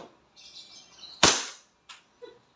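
A single shot cracks from a WE 2011 Hi-Capa I-Rex airsoft pistol fired on semi-automatic into a chronograph, one sharp close report followed by a couple of faint clicks, with a quiet background.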